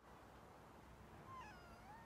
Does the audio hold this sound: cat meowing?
yes